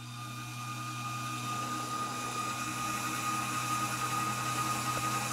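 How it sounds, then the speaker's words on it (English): A small electric motor drives a linear actuator, extending it all the way out on a bench installation, a steady close whine with faint vibration that builds slightly and holds evenly throughout. "just going to power up the motor"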